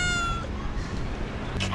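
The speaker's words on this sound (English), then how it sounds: "Cats around here" A cat on a Moroccan street gives a single drawn-out, wavering meow, close and fairly loud, with faint street ambience beneath and a short rustle at the end.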